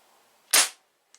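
A single sharp crack from a Crosman 1377 air pistol pumped five times firing a pointed pellet, loud and close, followed by a faint short tick.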